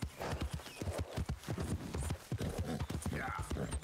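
Horse hooves clip-clopping in Red Dead Redemption 2, a steady rhythmic patter of hoofbeats on the ground, close and continuous under someone talking casually.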